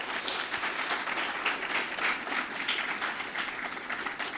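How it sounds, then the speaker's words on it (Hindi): Audience clapping at a Hindi training seminar, a moderate, steady patter of many hands lasting the whole stretch, slightly distant and fairly soft. "आओ ना, जोरदार ताली आ जाए"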